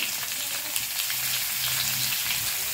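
Boiled potato added to a frying pan of hot oil with dry red chilli, bay leaf and five-spice tempering, a steady loud sizzle with light stirring scrapes throughout, close by.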